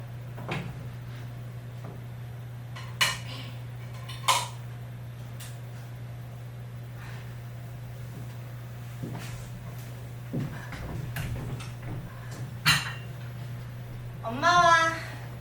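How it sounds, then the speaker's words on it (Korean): Plates are cleared from a dining table indoors, with scattered soft clinks and knocks of crockery spread across a quiet room over a steady low hum, ending in a brief voice. "접시 정도는 내가 치워줄게."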